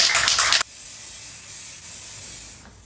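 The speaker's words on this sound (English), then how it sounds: "Also check the spray very well before you spray it on." A short, loud burst of aerosol spray paint hissing for about half a second onto a PVC frame, then a quiet background hiss.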